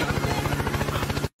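A loud helicopter rotor in Poppy Playtime thumps in a fast, steady chop, close and continuous, then cuts off abruptly at the end.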